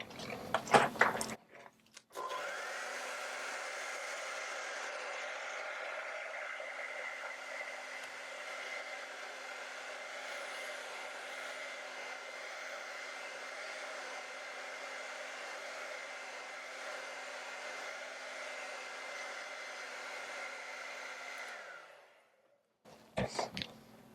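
A hair dryer blows on wet acrylic paint for about twenty seconds, a loud, steady whooshing roar close to the listener, with brief handling clicks at the start and end.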